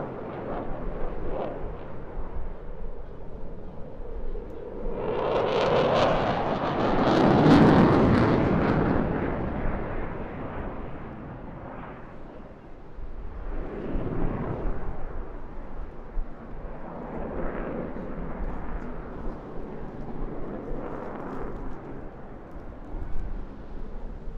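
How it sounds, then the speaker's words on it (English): A Royal Air Force Eurofighter Typhoon jet flying a display at the Eastbourne International Airshow roars past, swelling to a loud rumbling peak then fading into distant ebbing thunder with further passes. "Here it is, the Royal Air Force Typhoon display"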